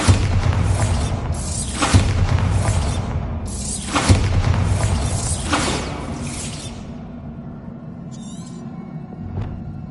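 Repeated Bombarda explosion spells blasting in Hogwarts Legacy: three loud booming bursts with shattering debris and rumble about two seconds apart, then the blasts fade out, leaving a brief magical chime and a low thud near the end.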